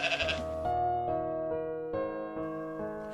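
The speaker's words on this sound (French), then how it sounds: "il entendit un bêlement de brebis" A ewe bleats in one long, loud, quavering cry that pulses several times across its length, heard alone with no other sounds.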